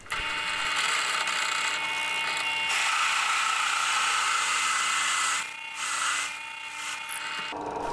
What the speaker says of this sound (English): I'm going to drill halfway with a 27mm hole saw, just halfway